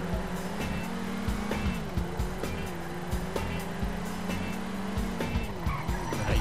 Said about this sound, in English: Totally trying to Paul Walker this shit and drift.